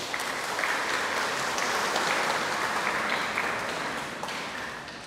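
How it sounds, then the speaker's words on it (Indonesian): A church congregation applauding, sustained even clapping from many people at moderate distance, fading slightly toward the end. "Kita beri aplaus untuk gereja kita."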